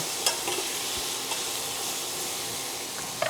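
Tomatoes sizzling in a pan where salmon was just seared, a continuous loud hiss of frying with a few faint stirring clicks and taps.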